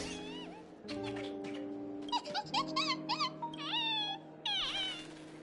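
A cat gives a run of several short, rising and falling meows and squeaky mews, close and clear, over a steady low musical drone.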